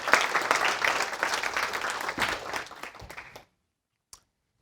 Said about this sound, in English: If you want to give a round of applause for reports